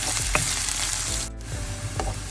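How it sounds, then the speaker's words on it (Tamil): Onions and green chillies sizzle in hot oil in a pan for a carrot and chilli milk curry, a loud, continuous frying hiss broken by a couple of brief scraping stirs. "இது கொஞ்சம் பொரிஞ்சு வரட்டும்"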